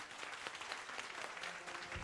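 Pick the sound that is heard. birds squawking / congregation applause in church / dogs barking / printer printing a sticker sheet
congregation applause in church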